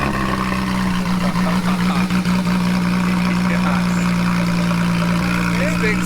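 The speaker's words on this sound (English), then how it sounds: "Dave's kind enough to give us a cold start on the Porsche GT3." A Porsche GT3 sports car engine idles after a cold start, a steady, loud drone that holds throughout. Faint voices are heard under the engine.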